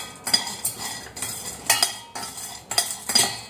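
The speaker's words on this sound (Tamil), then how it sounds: "அடுத்து அதே ஃப்ரை பேனில் நம்ம ஸ்டார் பூ சொன்ன இல்லைங்களா அதை சேர்த்துக்கலாம் அது கூடவே மராத்தி மொக்கு சொன்ன இல்லைங்களா ஐம்பது கிராம் அதையும் சேர்த்துக்கலாம்" Star anise and marathi mokku dropping into a frying pan: repeated light clattering and scraping taps of dry spices against metal, close and fairly loud in irregular bursts.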